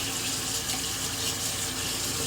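Water running steadily from a bathroom tap into a sink while it heats up for shaving, a loud continuous close rushing hiss with no voices.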